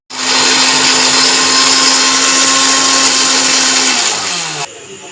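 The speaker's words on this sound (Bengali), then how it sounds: "এবার এটাকে গুঁড়ো করে নেব" Mixer grinder powdering roasted cumin and dried red chillies, a loud steady motor whine running continuously for several seconds before cutting off abruptly near the end.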